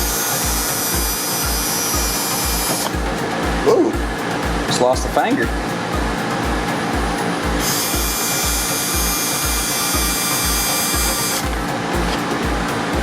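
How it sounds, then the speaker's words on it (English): A power drill bores holes for a motorcycle LED headlight mask on a Buell Blast street fighter build, whirring steadily in two long bursts with a brief pause, while a person speaks briefly. "for the initial holes, we'll just use this, and then I'm gonna up the size of the drill bit for the next holes."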